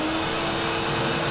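A vacuum cleaner draws air through a Dust Deputy DIY cyclone separator on a blast cabinet, a steady loud whine and roar that holds throughout.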